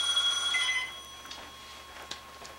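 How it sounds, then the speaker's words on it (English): A telephone rings briefly and faintly at the start, its tone fading out after under a second and leaving a quiet background. "We'll just wait for the phone."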